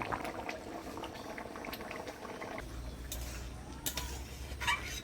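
Gulsha fish curry with semolina and taro simmers in a pot, a steady low bubbling boil with soft pops and liquid churning, close and continuous without talk.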